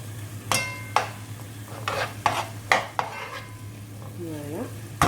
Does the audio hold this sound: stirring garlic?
yes